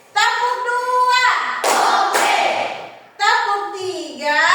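A class of children doing a counted clapping routine, a short burst of claps between stretches of children's chanting voices, close and fairly loud.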